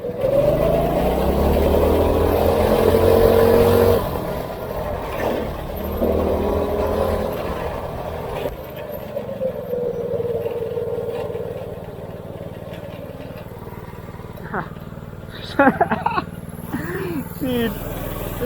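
A go-kart engine runs at full throttle along a rough, bumpy backroad, droning and revving loudly up close with rises and dips in pitch, while a voice talks over it.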